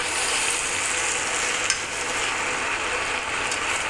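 Chopped ridge gourd frying with spices in a pan for galka shaak, a loud dense continuous sizzle heard up close, with faint scraping of stirring and a small clack partway through, no voices.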